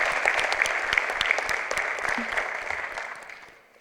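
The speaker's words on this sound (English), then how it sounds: "Can we give them a round of applause for that?" A Farmington Schools IB graduation crowd for the class of 2018 claps in a loud, dense round of applause that tapers off toward the end.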